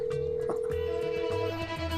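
An outgoing phone call rings in a comedy web series scene: a steady electronic ringback tone with stepped, warbling pitches plays close and clear for about two seconds, with no talking.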